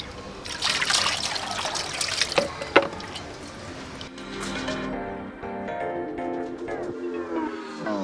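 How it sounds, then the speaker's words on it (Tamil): Water is poured into a goat intestine to rinse it clean, a close, steady trickle and gurgle that stops and starts and splashes now and then. No talk is heard. "ஒரு 2-3 முறை இதுக்குள்ளே ஊற்றி நல்லா க்ளீன் பண்ணுங்கள்."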